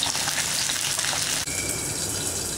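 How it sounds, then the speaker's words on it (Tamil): Potato-stuffed fish pan-frying until crisp on both sides, a continuous, close, fairly loud sizzle and crackle that carries on evenly, with no talking. "இது பேன் ஃப்ரை தான் பண்ண போகிறோம்."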